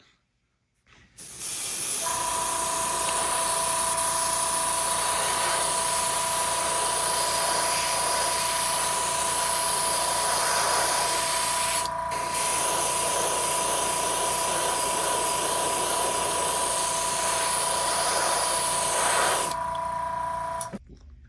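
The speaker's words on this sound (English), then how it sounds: "So we'll do some black paint through the airbrush to stop those light bleeds." An airbrush sprays black paint onto a 1/537-scale AMT USS Reliant model kit, a steady loud hiss running continuously for about twenty seconds with a faint mechanical hum beneath it and a brief break near the middle.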